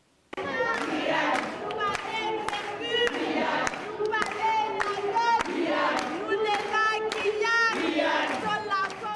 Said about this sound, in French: Plusieurs centaines de personnes ont répondu à l'appel du collectif pour la Guyane décollée et ont défilé cet après-midi dans les rues de Cayenne.